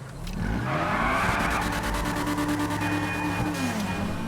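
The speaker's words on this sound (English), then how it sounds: "As standard, the S2000 has a screaming, high-revving VTEC 2-cylinder 4-pot engine, and so of course that is the engine we're hearing now" In GTA Online, a Dinka RT3000 modelled on the Honda S2000 screams through its high-revving VTEC four-cylinder, pitch climbing and falling as it revs, with tire squeal over it and no talking.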